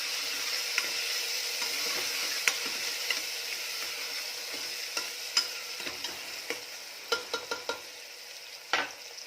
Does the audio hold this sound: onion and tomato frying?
yes